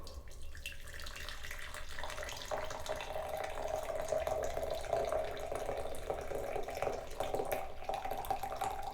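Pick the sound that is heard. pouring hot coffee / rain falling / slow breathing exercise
pouring hot coffee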